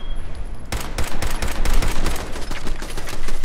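Rapid, loud gunfire erupts after a short pause in the video game Fallout 4, a dense stream of close automatic shots with bullets hitting the player, continuing without a break to the end.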